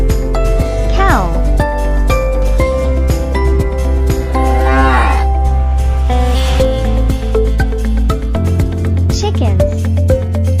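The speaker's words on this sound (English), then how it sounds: "Cow." Cow moos rise over a steady musical backing in a children's farm-animal vocabulary song, several bellowing calls spread through the passage rather than standing alone.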